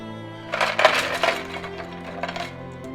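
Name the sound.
sesame tofu being cooled in ice water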